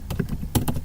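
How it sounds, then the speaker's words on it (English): Fast clattering keystrokes on a computer keyboard, a short burst of several close, loud clicks in an irregular rhythm with no voice over them. "I'm having a hard time typing right now."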